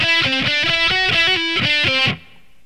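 Distorted electric guitar playing an interlude, a loud, close run of chugging, evenly paced picked notes with rising and falling melodic steps, ending abruptly into a fading ring; no talking.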